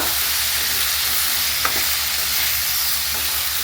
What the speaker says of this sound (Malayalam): ഇനി നന്നായിട്ടൊന്ന് വഴറ്റി കൊടുക്കുക